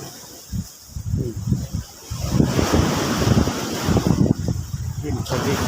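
Sea waves wash onto a beach, a steady broadband rush of surf mixed with wind buffeting the microphone, growing louder after the first couple of seconds, with faint voices in the background.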